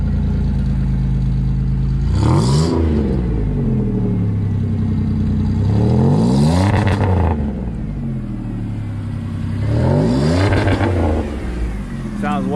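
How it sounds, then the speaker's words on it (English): A Monte Carlo SS with a supercharger and a new cold air intake is revved three times in separate bursts, each rising and falling with a whine over the exhaust, close and loud. "I pressed the gas. I know y'all heard that supercharger."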